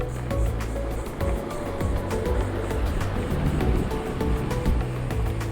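Rushing water and surf washing against the shore at Fort DeSoto Park in St. Petersburg, Florida, at high tide, continuous with rhythmic surges, with some low rumbling noise underneath.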